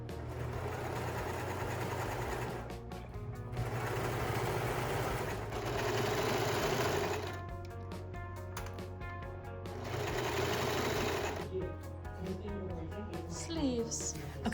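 A home sewing machine runs in several sustained bursts, understitching a garment with stretch thread, its fast mechanical whir steady and close, broken by short pauses with a low background hum.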